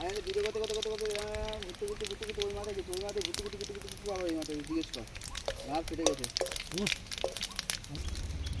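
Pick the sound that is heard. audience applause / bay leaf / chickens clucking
bay leaf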